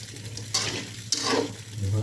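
A spoon scrapes and stirs rice with spices in a pan, giving two distinct scraping strokes over a soft sizzle, fairly close and with no talking.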